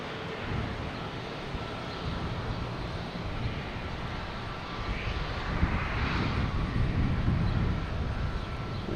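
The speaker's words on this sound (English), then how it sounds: "What is it? A Delta E-175 heading to Reagan." A Delta E-175 jet takes off from Boston Logan, its engine roar a steady broad rumble heard from Constitution Beach that swells gradually louder toward the end, with no talk over it.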